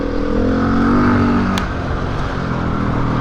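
A KTM 690 motorcycle with a lite kit fairing drones steadily on a test ride, its engine note holding close and loud with a slight rise in pitch over roughly three seconds.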